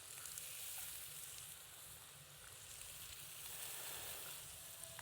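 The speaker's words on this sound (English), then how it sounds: "When you put the steak in the pan, because it's sizzling, it pushes the oil out" Soft, continuous sizzle and crackle of steak frying in a hot pan at a food festival, steady and fairly faint, with no talking.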